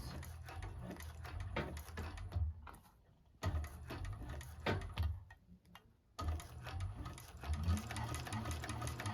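A 1341 cylinder arm sewing machine stitches a bag in rapid mechanical ticking runs, pausing briefly twice before resuming, close and fairly quiet.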